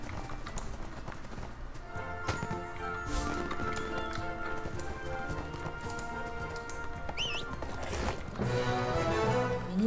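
Horse hooves clip-clop steadily in the online fantasy game ArcheAge, a running rhythm heard beneath game music and ambient effects.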